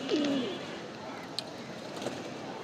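Pigeons in a loft, the females let out to bathe, giving a soft low coo at the start over a steady background hum and a faint click or two.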